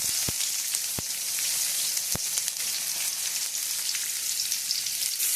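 Chana dal and onion fry in a pan with a close, constant crackling sizzle, broken by a few sharp clicks near the start.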